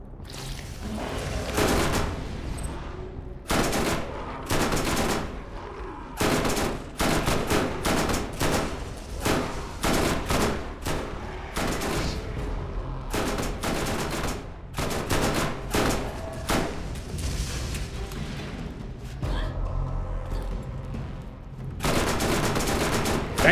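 Rapid, sustained bursts of SMG fire in a video game, a level 19 submachine gun chattering loudly in long strings with only brief pauses between volleys, close and dominant throughout.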